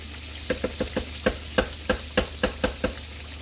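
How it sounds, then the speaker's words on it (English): Swiss steak pieces rolled through sauce in a pan, giving a run of soft, evenly spaced wet taps and dabs over a steady low sizzle, close and fairly quiet. "I'm going to kind of just roll this in our sauce and get them coated"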